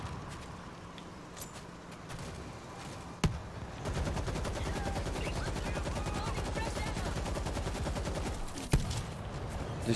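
Sustained rapid automatic gunfire in the zombie shooter World War Z, a dense rattling burst running for several seconds after a single sharp shot, with another loud crack near the end and voices faintly underneath.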